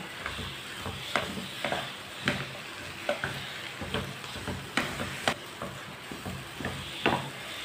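Flour batter is stirred in a hot pan on the stove, giving steady rhythmic scraping strokes over a soft, continuous sizzle, fairly quiet and close, with no talking.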